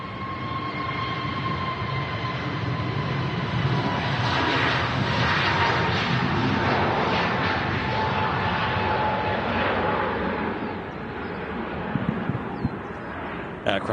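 An easyJet Airbus A320neo jet heading off on departure roars loudly, building to a sustained, rushing engine noise with a high whine before easing slightly, and a person talks over it near the end.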